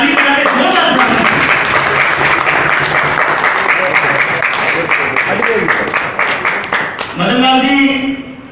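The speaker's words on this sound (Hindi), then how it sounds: "आप ताली बजा के जोरदार स्वागत" A meeting hall audience of a community council applauds to welcome a guest, with loud, dense clapping that runs steadily for several seconds, tapers near the end, and has a voice speaking over it at the close.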